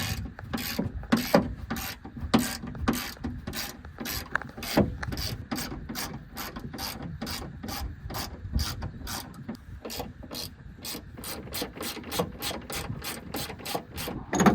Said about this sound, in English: We're going to undo the 2 factory bolts on the mount, or on the tie down point.